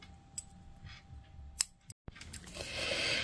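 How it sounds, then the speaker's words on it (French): Scissors snip through crochet yarn at the end of a row of a flat mosaic crochet blanket, a few sharp close cuts and clicks in a quiet room with no talking. "Une maille en l'air et je coupe le fil."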